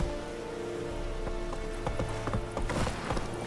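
Roach, the horse in The Witcher 3, galloping through rain. Rhythmic hoof clip-clops sound under a steady hiss of rainfall, moderately loud and continuous throughout.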